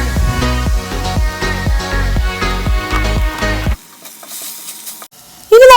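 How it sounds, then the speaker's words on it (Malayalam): Chopped tomatoes with cinnamon, cloves, cardamom and fennel powder sizzle loudly in a pan for fried rice, stirred in rhythmic strokes. The sizzle drops to near silence before a short loud burst at the end. "ഇനി ഇതിലേക്ക് അരിഞ്ഞു വെച്ചേക്കുന്ന തക്കാളിയും ഒരു ഫ്ലേവറിന് കുറച്ച് പട്ട, ഗ്രാമ്പു, ഏലക്ക, കുറച്ച് പെരിഞ്ജീരകപ്പൊടി ഇതെല്ലാം കൂടി ചേർത്ത് കൊടുക്കാം."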